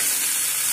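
Chicken and chopped tomato frying in a pan for a keto chicken vegetable dinner, a steady loud sizzle with no breaks over a short moment.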